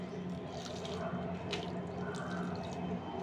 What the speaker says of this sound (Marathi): तर मग मी पाणी टाकून देते.